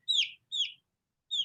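Three thin, high peeps from a week-old chicken chick, close and fairly quiet, with short silent gaps between them.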